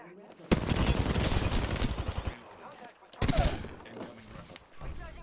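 Rapid automatic gunfire bursts in the battle royale game Apex Legends, loud and dense, two long volleys separated by a short gap, with a brief game voice line between them.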